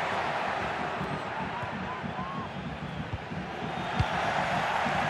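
Stadium crowd in the EA FC 25 video game, Parma against Napoli, a steady broad roar of cheering and chanting that holds throughout at moderate level, with a brief thump near the end.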